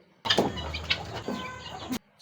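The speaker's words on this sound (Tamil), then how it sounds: "கோழிகள்," Busy, broadband chatter of chickens clucking and calling together on an integrated farm, fairly close and continuous for about two seconds before cutting off.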